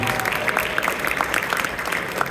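A crowd claps at a community coalition brunch, a short burst of scattered, fairly close hand claps with some murmur underneath, holding steady throughout.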